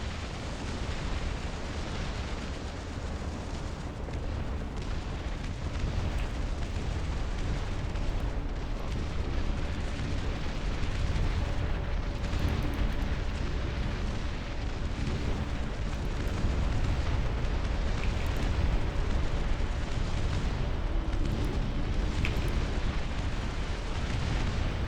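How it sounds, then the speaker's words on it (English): Continuous rumbling barrage of howitzer artillery fire in the RTS game Dust Front, dense booms and blasts layered into a steady loud roar of battle with no clear gaps across the whole stretch. "Howitzers took care of that."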